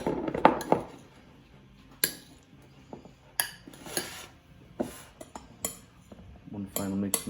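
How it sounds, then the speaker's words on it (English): Salsa with garlic being stirred in a bowl, with a run of utensil clinks and scrapes against the dish, some sharper knocks spaced through, close and fairly quiet with no voices. "One final mix now."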